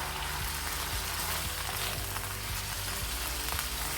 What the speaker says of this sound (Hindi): गैस की फ्लेम को हाई रख के इसको हम फ्राई करेंगे।